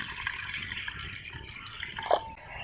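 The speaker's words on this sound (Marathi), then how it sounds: "या पातेल्यामध्ये टाकायचं आहे पाणी" Water pours steadily into a cooking pot for jaggery and tamarind syrup, a continuous close splashing wash with a brief brighter splash near the end.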